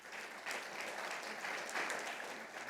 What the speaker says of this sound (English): I would like one final round of applause.